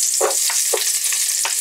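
Onion hitting hot oil in a pan for balbacua, a loud close sizzle with several quick stirring scrapes and bursts over a little under two seconds.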